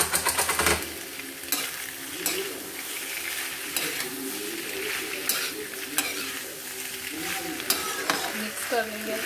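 Pasta is stirred in a sizzling pan, repeated spoon scrapes and clinks against the metal over a constant close frying hiss.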